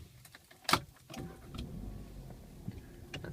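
A 2014 VW Jetta 1.8T SE with a 6-speed automatic and 6,600 miles is started: a sharp click, then the 1.8 turbo engine catches with a brief low rise and settles into a quiet, steady idle.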